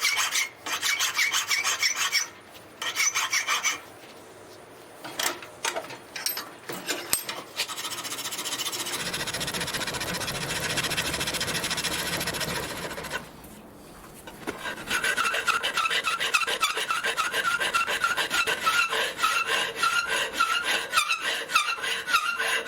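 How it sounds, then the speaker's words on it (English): A hand file rasps steel machinist clamp plates to strip off mill scale, in quick rhythmic strokes close by, broken by short pauses and a quieter stretch of slower scraping. No one speaks. "I'm just going to polish these plates up, get the mill scale off"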